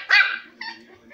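A dog gives one sharp, close bark, then a fainter follow-up yip, heard alone at a moderate level.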